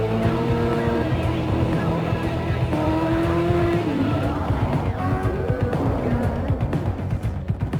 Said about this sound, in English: the thrill of accelerating 0 to 60 in approximately 3 seconds